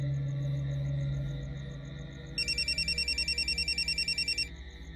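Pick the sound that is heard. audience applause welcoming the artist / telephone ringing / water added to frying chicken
telephone ringing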